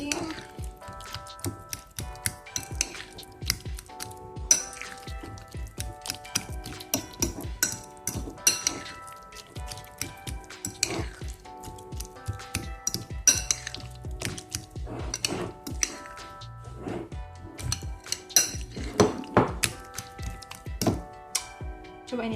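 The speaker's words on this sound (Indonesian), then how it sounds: "Terus diaduk-aduk lagi, aduk-aduk lagi." Guacamole stirred in a bowl, with scattered close clinks and dull thunks of a utensil against the dish in an uneven rhythm, fairly quiet throughout.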